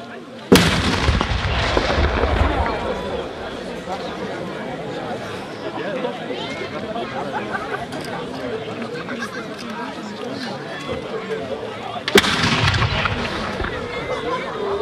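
A historical cannon fires during a reenactment of the 1813 Battle of Dennewitz: two sharp, loud booms about twelve seconds apart, each ringing out over steady outdoor crowd chatter.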